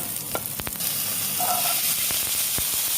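Onion and ginger sizzle in a pan for beef curry, a steady close frying hiss broken by a few sharp knocks and scrapes of a utensil stirring.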